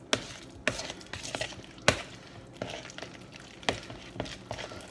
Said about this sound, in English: I'm just stirring it up.